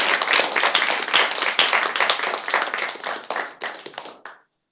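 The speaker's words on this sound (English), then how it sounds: "I thought maybe we can just also give the organizers a quick round of applause." An audience at a physics seminar gives a quick round of clapping for the organizers, brisk and fairly close, then it thins out and stops.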